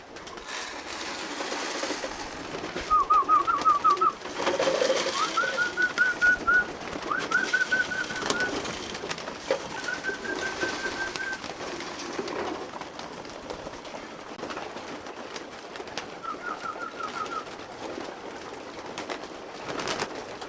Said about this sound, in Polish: To są same samce i tu jest 100 gołąbków.